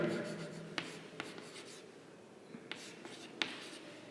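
Intermittent writing strokes and taps on a classroom board during a C programming lesson, sparse and fairly faint, with a teacher's voice briefly at the start.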